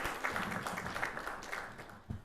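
A conference audience at an international tax conference in Dubai applauds, a dense wash of many hands clapping that holds steady and then tapers off near the end.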